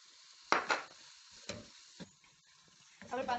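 Cheese being stirred into a pan of pasta in white sauce: a few distinct scraping, clattering strokes against the pan over a quiet sizzle, followed by a voice.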